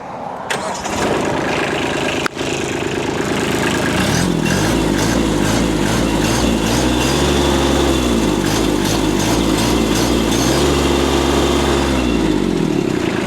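A Kubota B2440s compact tractor's 24-horsepower diesel engine cranks and catches, then settles into a loud, steady, throbbing idle with a slight rise and fall in pitch.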